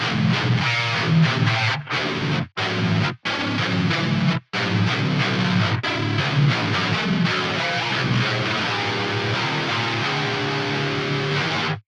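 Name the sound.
heavy distorted electric guitar rhythm riff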